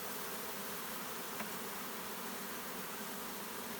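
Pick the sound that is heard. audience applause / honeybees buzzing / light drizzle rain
honeybees buzzing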